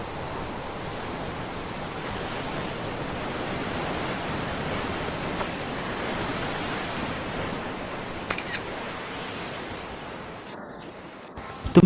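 Sea waves wash steadily against the shore, a dense, constant surf roar with no breaks and no voices, staying level throughout before a few faint clicks at the very end.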